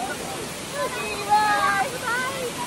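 Steady roar of Adyar waterfall in the rain season, a continuous wash of falling water with softer voices talking over it now and then.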